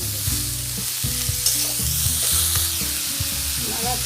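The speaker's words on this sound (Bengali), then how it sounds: "দেবো হলুদ গুঁড়া, এটাকে ভালো করে আমি ভেজে নেব।" Vegetables fry with turmeric powder in a pan, a loud, close sizzle with clattering stirring knocks throughout and no speech.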